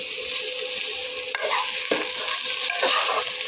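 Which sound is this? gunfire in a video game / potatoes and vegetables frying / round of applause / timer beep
potatoes and vegetables frying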